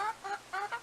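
A rooster in a farmyard flock gives a quick run of four or five clucks, close and clear, with short gaps between them.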